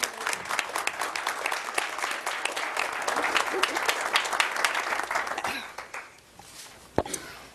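Audience applause at a transportation planning board meeting, a steady mid-distance clatter of many hands that thins out after about five seconds, with a few scattered claps and a cough trailing at the end.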